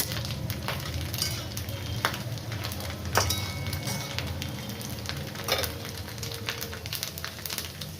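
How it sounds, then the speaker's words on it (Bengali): Chopped onions fry in a pan for cholar dal, giving a dense, steady sizzle with scattered crackles and light utensil clinks, close and even in level, with no talking. "পেঁয়াজ কুচনো দেব, এবারে দিয়ে ভাজবো"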